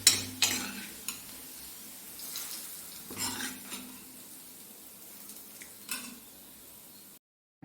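Fried onions are stirred into a moringa leaf, jackfruit seed and dal curry, giving quiet, scattered scraping and clinking strokes in a pot over a faint sizzle that ends abruptly.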